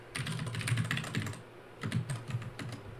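Code is typed on a computer keyboard, quick close clicking keystrokes in two short bursts separated by a brief pause, with no talking.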